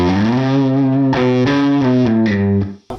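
A loud, overdriven electric guitar through a UA Ruby '63 Top Boost amp emulation turned all the way up rings out a few sustained distorted notes at high volume, then cuts off abruptly near the end.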